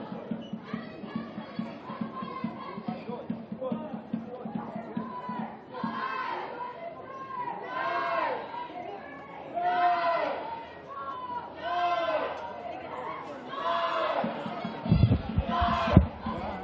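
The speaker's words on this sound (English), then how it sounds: "I'm not sure what the cheer squad is calling out there" A cheer squad chants at a semifinal football match, its loud rhythmic group calls rising and falling over steady crowd noise, with a commentator speaking over it and a burst of wind or handling noise near the end.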